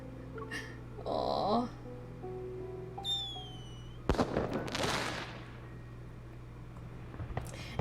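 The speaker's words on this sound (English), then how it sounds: "As dusk falls, fireworks bloom in the distance." Fireworks bursting in the distance in a dusk scene from the video game Love and Deepspace, a dense crackling cluster in the middle with a few earlier faint pops and whistles over a steady low ambient hum.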